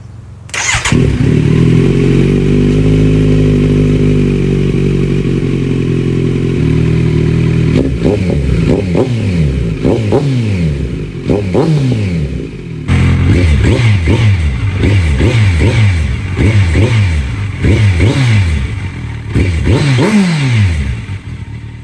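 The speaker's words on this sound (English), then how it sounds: "I have warmed the bike up, so we're okay to rev it." A warmed-up Kawasaki Z900 engine cranks and catches, idles with a steady rumble, then revs up repeatedly in sharp bursts, loud and close throughout.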